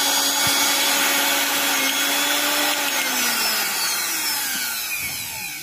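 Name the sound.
mixer grinder motor running after pressing overload switch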